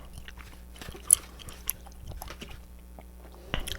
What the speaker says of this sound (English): I'm chewing on some peppermint orbit gum today.